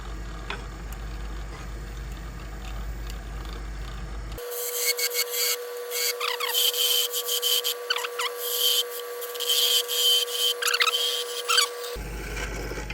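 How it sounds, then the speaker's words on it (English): A wood lathe turns a wooden baby rattle, its motor humming steadily for most of the stretch while the cutting tool scrapes and rasps against the spinning wood in uneven bursts. Quieter room sound comes before and after. "I'm going to slow the lathe down to less than, I think last time I was at like 1300"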